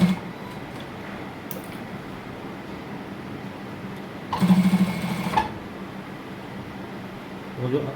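A sewing machine stitches a shirt cuff in a short loud burst of rapid needle chatter, close by, between quieter stretches of room hum with someone speaking.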